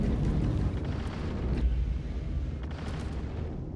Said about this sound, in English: So that turret is shooting at me.